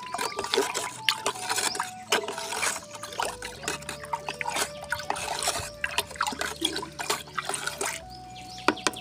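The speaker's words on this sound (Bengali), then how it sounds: "ভালো করে মিশ্রণটি মিশিয়ে নেবেন।" Fungicide solution swishes and trickles as it is stirred into water, with splashy irregular liquid sloshing and dripping close by throughout.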